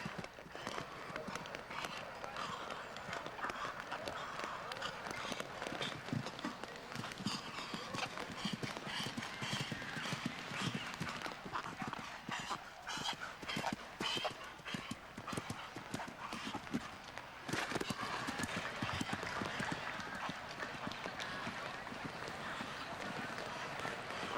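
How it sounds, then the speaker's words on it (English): A show jumper galloping on the course at Spruce Meadows, a horse with a slight wind issue: quick rhythmic hoofbeats and hard, rasping breaths, fairly faint, under steady commentary. "This horse, you can hear him breathing quite hard."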